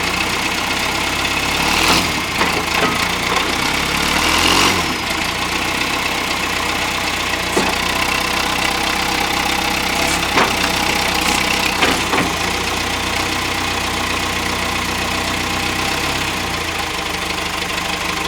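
A John Deere 510C Turbo 4x4 backhoe loader's diesel engine idles with a steady, loud, knocking rumble throughout, joined now and then by brief metallic clanks and rattles.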